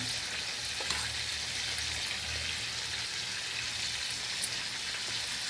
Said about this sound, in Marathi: चला तर अजून 1 मिनिट आपण टोमॅटो असे वरखाली करून घेऊया.